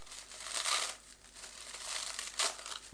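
Roasted seaweed is crushed by hand, giving close, soft crinkling and crackling in a few uneven bursts.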